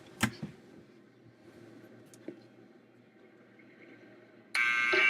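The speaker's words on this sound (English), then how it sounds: "Buzzer." In a scene from Back to the Future Part II, a loud, harsh electric buzzer blares abruptly and continuously near the end, after a quiet stretch with a few faint knocks.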